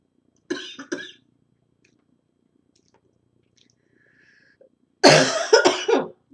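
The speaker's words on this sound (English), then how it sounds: "oh God, I don't want another coughing fit." A coughing fit from a man in an indoor talk setting, with a short cluster of coughs early on and then a louder, longer burst of several harsh coughs near the end, separated by near silence.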